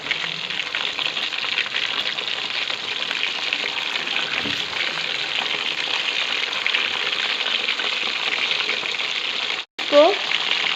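A fish fries on its second side in a pan, a loud, even, continuous hiss of hot oil holding steady throughout, with a brief break and a small clink near the end.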